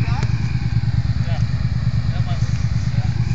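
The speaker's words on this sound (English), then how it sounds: "Can-Am 400 pulling out the Brute 750." A Can-Am 400 ATV pulls out a Brute 750 in the mud, its engine giving a loud, close, steady low rumble with a throbbing pulse that runs unbroken throughout.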